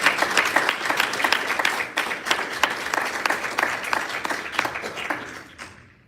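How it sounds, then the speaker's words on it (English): An audience at a board meeting applauds a team, a dense burst of clapping that carries steadily for several seconds and then thins and fades out near the end. "If you give them a round of applause,"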